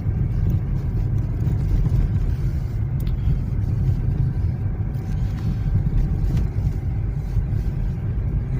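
A Lada Vesta drives at night through a Siberian blizzard on a paved road, giving a steady, loud low rumble of engine and road noise from inside the car, with no talking.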